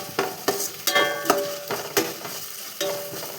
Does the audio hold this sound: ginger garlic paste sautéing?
yes